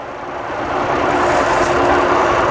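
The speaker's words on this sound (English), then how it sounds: "Now the truck is running" A truck engine idles loud and close right after starting, holding an even, continuous rumble with no speech over it.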